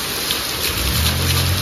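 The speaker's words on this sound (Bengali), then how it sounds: "বৃষ্টি জানি না কখন থামবে।" Heavy, steady downpour after three days of continuous rain outside a house with water pooling, a loud dense hiss filling the whole stretch with no one speaking.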